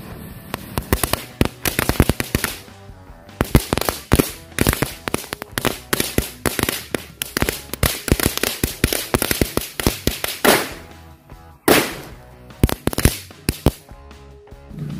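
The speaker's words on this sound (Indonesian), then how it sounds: "kita tambahin beberapa mercon kretekan biar lebih bagus" Mercon kretekan firecrackers set on raw eggs burst in a long, rapid, crackling string of loud pops with a brief gap near the end.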